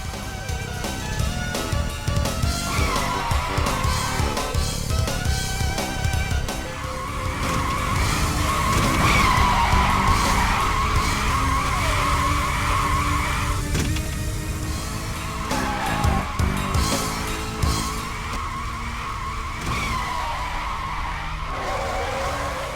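Car tyres skid and squeal as a car spins out in the video game Virtua Racing: FlatOut on PS2, a long continuous screeching slide over engine roar, loud and close.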